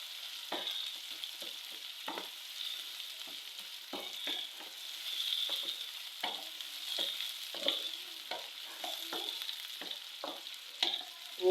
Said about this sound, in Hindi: ये देखें प्याज को मैं इससे फ्राई कर लूँगी।